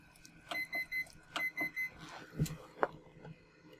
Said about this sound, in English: Sorry for the beeping that you're about to hear.